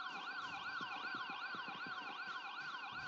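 A siren at a speedway bomb-testing event wails steadily in fast rising and falling sweeps, loud and continuous throughout, with faint low thumps underneath.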